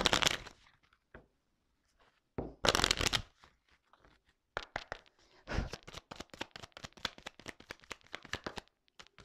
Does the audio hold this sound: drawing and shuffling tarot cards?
yes